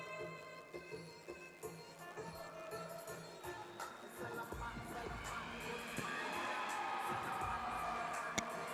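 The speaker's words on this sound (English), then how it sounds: "Big crowd support here for Jetrin." A crowd at an MMA event cheers in support of fighter Jetrin Mourn, from a low murmur to a louder, sustained roar of voices in the second half, heard from a distance in a large venue.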